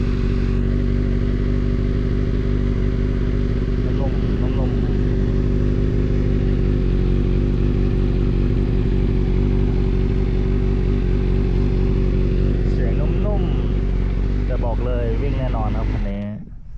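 A Honda CBR1000RRR motorcycle with a long exhaust pipe idles steadily, a loud, deep, smooth rumble that holds unbroken for about sixteen seconds, then cuts off abruptly at the end.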